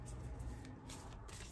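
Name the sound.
shuffling Moonology oracle deck cards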